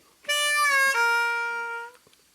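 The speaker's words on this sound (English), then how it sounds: "3-draw half-step bend's a very light pressure bend." A harmonica plays a single 3-draw note with a light half-step bend, a clear close tone held for under two seconds that drops in pitch partway through, heard alone.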